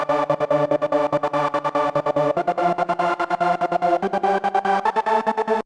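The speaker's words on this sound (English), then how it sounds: "So now let's move on to the next sound, which is this Stutter trance lead" Stutter trance lead synth with rapid, choppy gated repeats chopping a sustained chord line, loud and alone throughout.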